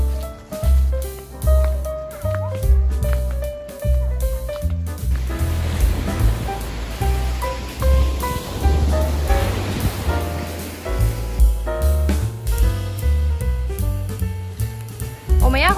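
Surf rolls and washes onto the beach at Qixingtan in Hualien, a steady churning roar that swells and recedes throughout, mixed with background music and occasional voices.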